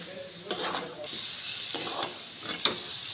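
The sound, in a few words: banana flower (mocha) being stirred and fried in pan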